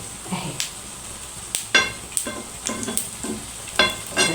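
Egg-and-pasta mixture frying in a pan, a steady close sizzle broken by several sharp scraping clatters as it is pushed and turned, with no talking.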